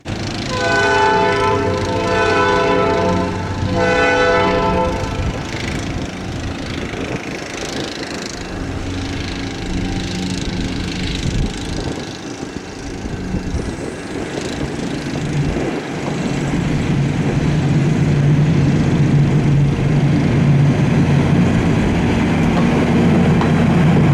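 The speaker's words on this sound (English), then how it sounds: "the blast of A18's horn shook the air, and the train departed the station" Locomotive A18 at the Hoosier Valley Railroad Museum sounds a loud, sustained horn blast, then a heavy, steady engine rumble builds as the train pulls out of the station.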